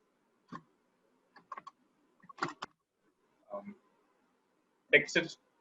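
Typing on a computer keyboard during a design lesson: short, sparse clusters of close, crisp key clicks separated by quiet pauses.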